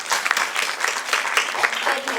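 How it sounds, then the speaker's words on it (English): Audience applause at a business and leadership event, steady dense clapping from a crowd of listeners that stays at an even level throughout the short stretch. "Give a big round of applause for her."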